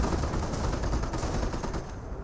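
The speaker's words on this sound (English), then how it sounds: "This Greyhound's also firing away. We've got these Hellcats firing away." Dense, continuous gunfire from Greyhound armored cars and Hellcat tank destroyers in the Company of Heroes war game, a loud, unbroken rattle of rapid shots over a rumbling battle din.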